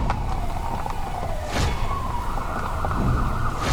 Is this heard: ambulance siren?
yes